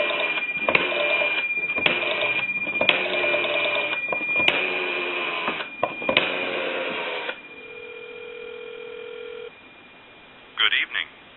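A steady dial tone from an A&E Monophone rotary desk telephone under repair holds for about two seconds after a stretch of talk and other telephone audio, with a short burst of sound near the end.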